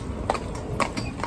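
Hooves of a pair of carriage horses, one of them a chestnut, clip-clopping in a few spaced, fairly close strikes over a low rumbling background, with no one talking.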